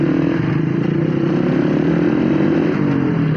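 A Suzuki Satria FU motorcycle engine pulls hard while being ridden, a loud continuous close-up drone with a rapid rhythmic exhaust pulse, steady throughout without talk.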